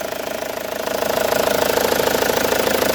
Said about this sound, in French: le moteur, écoute bien,